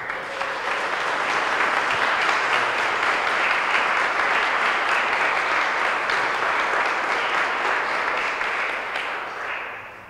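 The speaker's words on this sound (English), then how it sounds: "let's give them a round of applause" A large audience applauds an office team at a hall rededication ceremony, a dense steady roar of many clapping hands, loud and sustained for about ten seconds before tapering off at the end.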